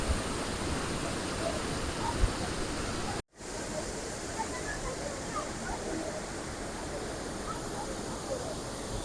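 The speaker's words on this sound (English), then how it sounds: "It's amazing how the water is moving." A waterfall in Karura Forest rushes steadily, a dense broadband hiss with no break except one brief dropout near the start.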